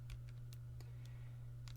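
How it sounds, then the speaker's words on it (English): Keys pressed on a calculator keypad while working a GCSE higher maths question: a handful of faint, quick clicks spread irregularly over a steady low hum, with no talking. "if I type that into my calculator"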